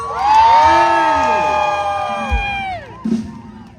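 Crowd at a northern-style temple fair in Damnoen Saduak, Ratchaburi, cheering and shouting for a singer, a loud swell of voices and whoops that rises and sustains before trailing off, with a brief shout near the end.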